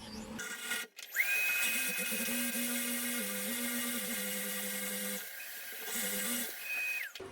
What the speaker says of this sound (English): you might have saw me moving the drill around